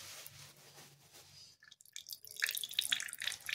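Thin watery liquid drips and trickles from a cloth bag holding ground wheat batter, close and quiet, a brief silence giving way to a dense run of small splashy drips.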